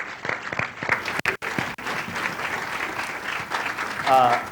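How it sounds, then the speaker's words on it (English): Audience applause greets panelists coming on stage at a Pulse one-year remembrance forum, a dense crowd clapping steadily throughout with a few brief dropouts and a voice faintly audible near the end. "Give them a big round of applause."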